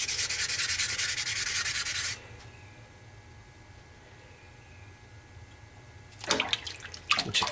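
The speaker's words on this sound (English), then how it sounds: "wet your sandpaper, and sand it" Wet sandpaper rasps in steady strokes for a couple of seconds, stops, then starts again with rougher scrubbing, close by.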